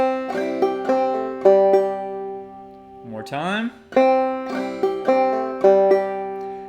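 Clawhammer banjo plays a measure of the fiddle tune "Billy in the Lowground" with a bum-ditty strum and an alternate-string hammer-on, close and bright, played twice with a brief spoken phrase and a quick pitch slide in between.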